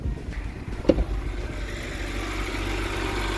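A BMW petrol inline-six engine idles steadily and quietly, giving a low, even hum with a brief sharp click early on.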